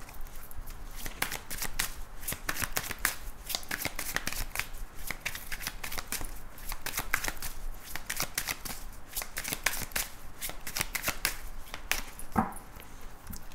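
A deck of oracle cards being shuffled up close, a dense, steady run of crisp riffling and flicking that carries on without pause, with one sharper tap near the end.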